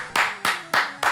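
Four sharp hand claps land at an even, unhurried pace, close and fairly loud, with nothing else around them.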